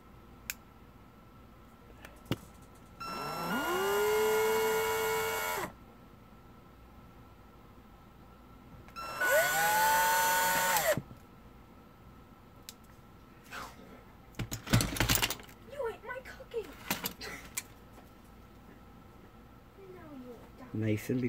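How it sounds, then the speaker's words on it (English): A power drill bores into a piece of wood in two loud bursts, each spinning up to a steady whine for a couple of seconds before stopping, separated by quieter handling noise. "I just take this piece of wood here and then I drill into it."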